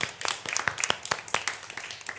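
Several small hands clap unevenly in quick, scattered bursts, close by, a short round of light applause without speech.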